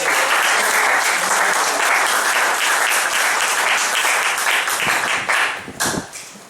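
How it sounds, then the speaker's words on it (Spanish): An audience at a Catholic Cursillo de Cristiandad gathering applauds, a dense, loud sustained burst of clapping from many hands that thins and fades near the end. "Démosle un fuerte aplauso a Monseñor"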